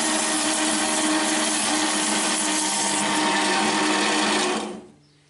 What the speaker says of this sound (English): Over to the bandsaw and cut off.